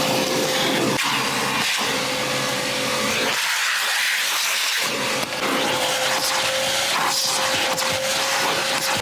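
Vacuum cleaner cleaning car carpet during mobile detailing, a loud steady motor whine with a brief muffled dip as the nozzle presses into the carpet, then the full drone returns, close with no talking.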